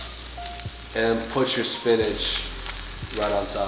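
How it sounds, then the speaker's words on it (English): Avocado oil sizzling in a frying pan, spinach added on top, a soft steady frying hiss under a person talking throughout. "Now it's gonna start melting. Not melting, but sizzling."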